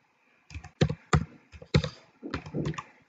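A command being typed on a computer keyboard, a few distinct close keystrokes in a short uneven burst, clear and alone in a quiet room.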